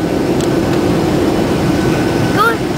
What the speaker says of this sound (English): We're on a plane again.